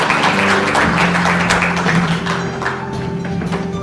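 An audience at a forum launch ceremony applauds after a congratulatory speech. The clapping is steady and moderately loud, with a faint tonal hum underneath, and it eases off slightly toward the end.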